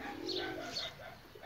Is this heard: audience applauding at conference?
no